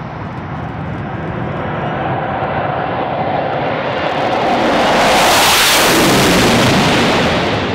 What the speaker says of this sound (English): As they pass before you, you will notice the smoke is not visible while the engines are in afterburner.